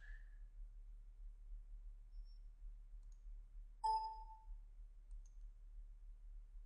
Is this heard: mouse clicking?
yes